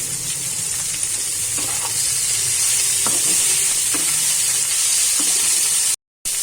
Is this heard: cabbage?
yes